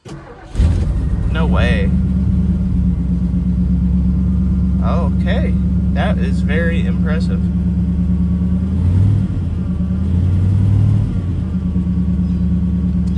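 A 1970 Ford Thunderbird V8 that burns a little oil and has a passenger-side exhaust manifold leak cranks and catches almost instantly. It settles into a loud, steady idle while people react and talk over it.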